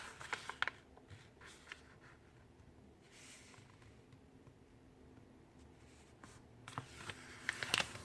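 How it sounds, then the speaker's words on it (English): A sheet of paper is folded into a paper airplane close up, with crisp crinkles and sharp creasing scrapes coming in short bursts, separated by quiet pauses and busier at the start and end. "When you finish one side, repeat the same fold for the other side."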